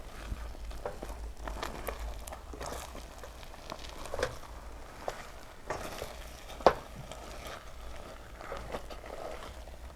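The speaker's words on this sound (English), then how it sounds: "And then we mix it over low heat." Sticky rice is stirred in a pan over low heat, with soft repeated scraping and shuffling strokes over a faint, steady sizzle. One sharper clack stands out partway through.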